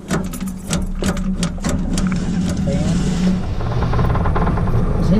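The engine of an International Harvester Scout runs with a steady low rumble and some rattling up close, people talking over it.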